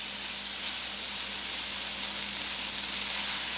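Bacon and mustard sizzle steadily in a sauté pan, a continuous even crackle and hiss from start to end, close by and fairly loud, with no talking.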